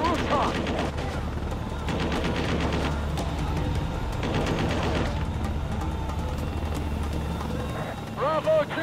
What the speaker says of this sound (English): Firing from the rooftop!